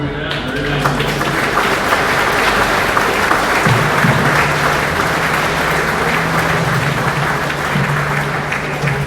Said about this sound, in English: give another round of applause for doing that.